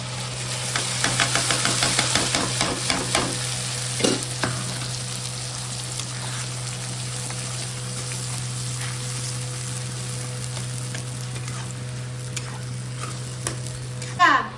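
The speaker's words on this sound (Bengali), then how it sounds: "এখন আমি মশলাটা দিব।" Spice masala and tomato paste fry in a pan for a Bengali katla fish curry, a continuous close sizzle with scraping stirs near the start, over a steady low hum and no talk.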